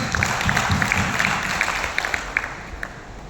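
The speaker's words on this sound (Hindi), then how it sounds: "एक बार उनके लिए जोरदार तालियां सर" Audience at a seminar in Jaipur gives light applause, a thin ongoing patter of claps with a few sharper individual claps, over low room murmur and faint voices.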